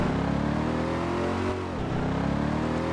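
A small car's engine in the Garry's Mod DarkRP game drones steadily while drifting, its pitch dipping briefly midway then rising again, loud and continuous with no talking.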